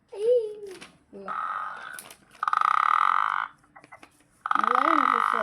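A person imitates a frog croaking, making several loud buzzy vocal croaks in separate bursts, with short talk between them.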